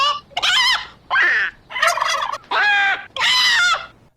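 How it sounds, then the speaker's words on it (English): A turkey gobbles in five loud, separate bursts of rapid warbling calls, close up with short silences between them. "I'll admit I was torn which bird sound effect to put there, so I'll just play them all."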